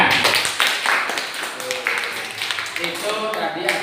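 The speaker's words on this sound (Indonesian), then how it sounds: "Oke, tepuk tangan." Schoolchildren clap their hands in a classroom during an Islamic moral studies lesson, a dense, uneven patter of many hands lasting several seconds at close range, with some voices mixed in.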